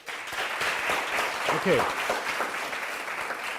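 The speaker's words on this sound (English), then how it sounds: "Let's give yourselves a clap here" An audience at a community prayer and maths program session claps for itself, a steady dense patter of hands lasting a few seconds with a brief spoken word partway through.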